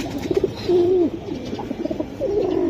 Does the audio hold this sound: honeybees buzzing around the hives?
no